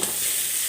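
Raw banana curry sizzles in hot oil in a pan, a steady, close hiss of frying that carries on without pause and with no voices.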